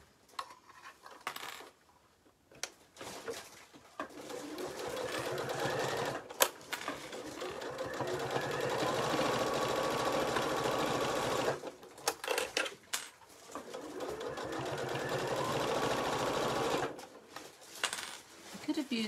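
A sewing machine with a patchwork foot runs in long close bursts of rapid whirring stitches while sewing a hot water bottle cover, broken by short pauses and small clicks.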